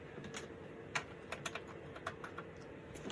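Keys clack on an old Dell computer keyboard in scattered, uneven bursts of quiet clicks, heard close against a faint steady hum.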